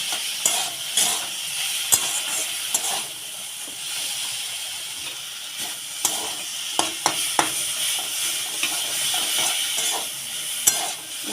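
Sour okra frying with a little turmeric in a pan, a steady bright sizzle with scattered sharp clicks of stirring and spatula taps throughout, no voices.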